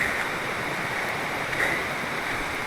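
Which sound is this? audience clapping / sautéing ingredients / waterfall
waterfall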